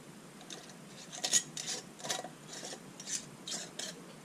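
A metal screw ring is finger-tightened onto a canning jar lid for pressure canning, making a series of soft, close scraping rasps in short repeated bursts.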